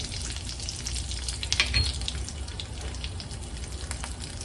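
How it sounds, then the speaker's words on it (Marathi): Cumin seeds and curry leaves with a pinch of asafoetida crackle and spit in about two tablespoons of hot oil in a kadhai, a busy continuous sizzle with a brief louder pop burst near the middle. "जिरं आणि कढीपत्ता तडतडला का हा बारीक चिरलेला कांदा ऍड करणार आहोत।"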